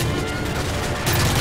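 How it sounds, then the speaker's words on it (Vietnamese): Gunfire in Call of Duty: Modern Warfare 3: a dense, continuous rattle of rapid shots fills the moment, loud and close, with heavier booming fire swelling near the end. "Bắn cực phê luôn."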